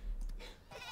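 A short, wavering cartoon sheep bleat from the video game Worms sounds once, quiet and brief, over game background noise.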